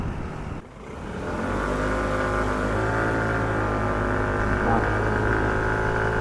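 SYM MMBCU scooter accelerating at full throttle, engine note climbing after a brief dip into a steady, strong high-rev drone that holds through the end, no speech.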